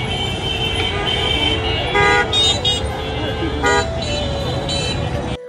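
Busy street traffic with car horns honking repeatedly over a constant engine and road rumble, several horn toots overlapping at near and middle distance, and voices faintly audible in the mix.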